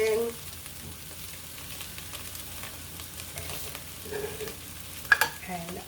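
Spices with garlic and onion being stirred in a frying pan for beef chilli, a steady quiet sizzle with scraping and a few louder clinks of the utensil near the end.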